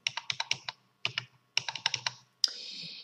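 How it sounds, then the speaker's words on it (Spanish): A password is typed on a computer keyboard in quick close bursts of key clicks with short pauses between them, ending in a longer sustained keystroke. "voy a poner la contraseña de este alumno ficticio"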